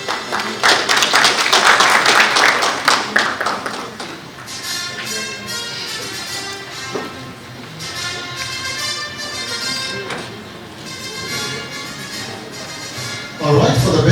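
Audience applause breaks out at the Middle East Leadership Awards 2024, loud at first, then thinning into scattered clapping, with a fresh burst at the very end.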